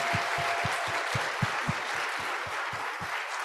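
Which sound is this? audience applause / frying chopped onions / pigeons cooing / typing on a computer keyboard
audience applause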